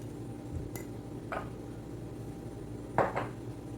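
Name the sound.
stirring hair henna paste in a bowl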